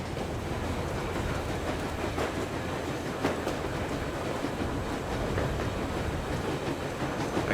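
A moving train in the Metro Exodus video game: steady loud rumble of a rail car in motion with rhythmic wheel clatter throughout, continuous and close, with no talking.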